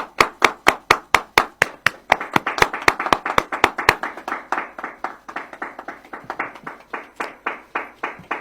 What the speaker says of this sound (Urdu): شاباش, تالیاں بجائیں